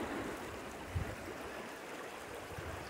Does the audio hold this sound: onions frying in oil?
no